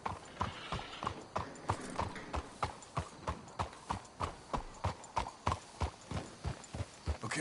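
Horses' hooves clip-clopping at an even walking pace in the video game Red Dead Redemption 2, a steady run of distinct close thuds that carries throughout.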